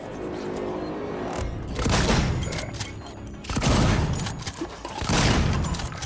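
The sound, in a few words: gunfire in a video game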